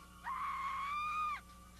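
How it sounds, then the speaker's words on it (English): A single high, sustained scream of about one second from a low-budget camp-slasher horror film trailer, sounding loud and alone over a faint background hum. "They ignored the screams that echoed through the woods that night."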